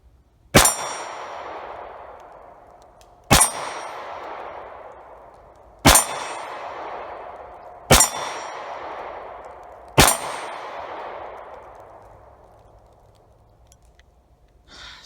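Five sharp metallic rings from a steel plate target struck by gunfire from an XC1 clone, spaced about two seconds apart, each ringing out and decaying slowly, with no talk.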